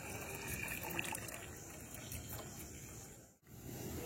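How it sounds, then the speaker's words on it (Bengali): Water gushes steadily into a cooking pot being filled to boil for chowmein, a continuous close splashing rush that briefly dips near the end. "আমি এদিকে চাউমিন সেদ্ধ করার জন্য গরম জল বসিয়ে দিচ্ছি।"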